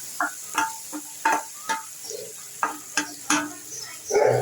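Mashed beans being turned over in a pan, with a series of distinct scraping and tapping spatula strokes about every half second over a faint sizzle, close up, no talking.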